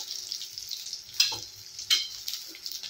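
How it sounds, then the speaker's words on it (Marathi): Green chillies dry-roast in a pan until white blisters appear, a steady close hiss of sizzling broken by two short, louder crackling bursts, with no voices. "आपण या मिरच्यांना असे सफेद डाग पडेपर्यंत चांगले भाजून घेणार आहोत"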